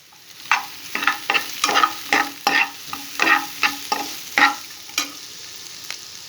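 Chicken pieces frying in a pan with salt, turmeric, chili powder and garam masala, stirred in quick repeated scrapes and sizzling bursts, about a dozen close, distinct strokes over a steady background hiss.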